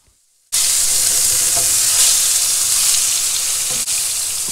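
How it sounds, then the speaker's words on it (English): Salmon pieces frying at low heat in a pan give a steady, close sizzle that starts abruptly and holds evenly throughout, with no talking. "Fry at low heat 3 minutes on each side."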